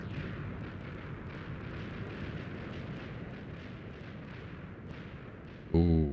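Bombing in Minecraft sets off a continuous, dense stream of rumbling explosions that crackle and roll together, loud and unbroken, ending in a short sharp tonal burst.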